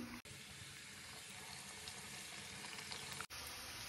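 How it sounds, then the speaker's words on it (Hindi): Gujiya made with semolina and khoya frying in hot oil over medium heat, a steady, close bubbling sizzle that runs unbroken apart from two brief dropouts, with no talking. "तो देखिए हमारा ऑयल गर्म हो चुका है। अब हम एक एक करके गुजिया को डाल देंगे"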